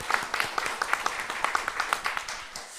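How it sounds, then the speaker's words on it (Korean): A church congregation at a New Year's Eve service claps together, a steady, fairly loud patter of many hands lasting a few seconds, with no speech. "새해를 허락해 주신 하나님께 영광의 박수 올립니다."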